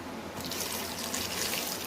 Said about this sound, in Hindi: इसके साथ ही हाफ कप पानी डालेंगे।